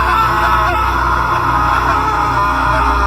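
A loud, sustained scream with a harsh, strained edge holds steady for about three seconds over a dense rumbling background.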